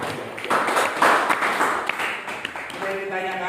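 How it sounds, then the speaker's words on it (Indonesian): A classroom of students claps after a group presentation, with scattered hand claps blending with chatter and voices. "Sudah. Tepuk tangan"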